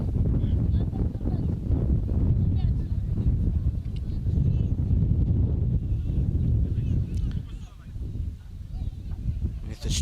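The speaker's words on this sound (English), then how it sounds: "With a strong wind blowing against him" Strong wind buffets the microphone at an under-16 rugby union match between Marist and Nasinu, a continuous loud low rumble filling the whole stretch with a commentator speaking over it.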